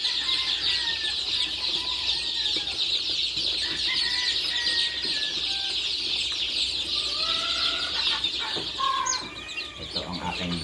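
Chicks and chickens cluck and peep steadily at a morning feeding in a brooding pen, a busy, close chorus of high chirps and short clucks with occasional wing flutters, no talk.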